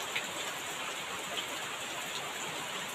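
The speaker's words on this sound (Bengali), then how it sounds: "দেখুন আমাদের এখানে বৃষ্টি পড়ছে।" Rain falling outdoors, a quiet, even hiss of drops that stays constant throughout with no talk.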